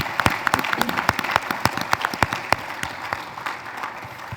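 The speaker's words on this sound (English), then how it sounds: "let's give them a round of applause" Audience at a regional councils candidates forum giving a round of applause, a modest roomful of distinct claps, fairly close and sparse, tapering off gradually.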